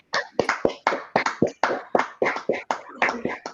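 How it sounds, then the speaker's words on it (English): Scattered applause from a small online audience after poetry readings, a handful of separate close claps in an uneven rhythm, sharp and distinct rather than a blended roar. "let's give a nice round of applause for both the Amber and Anne"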